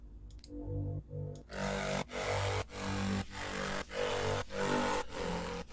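A bright, gritty synth melody plays over thumping, evenly spaced kick hits in the second break of a G riddim track, following a brief sparse intro, loud and dense throughout.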